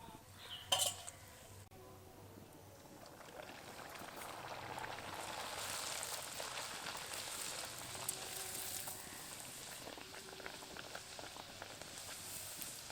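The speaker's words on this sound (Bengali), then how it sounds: "তেলের মধ্যে এভাবে কচুরিটাকে নাচাবো, তাহলেই আস্তে আস্তে ফুলে উঠবে।" Duck egg kachori frying in hot oil gives a soft, steady sizzle with faint crackles and a few light clinks near the start, quiet and without talk.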